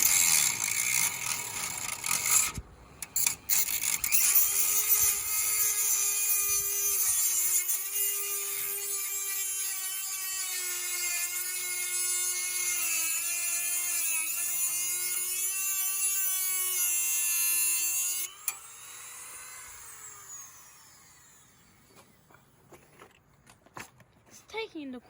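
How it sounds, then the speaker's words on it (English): A Dremel rotary tool grinds through a stuck nut on the grille badge of a Rover P4 80, a loud, high, whining cut that holds steady for about fifteen seconds before winding down, with speech heard around it. "Or I could cut it off with a Dremel tool."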